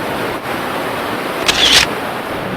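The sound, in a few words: camera shutter taking a picture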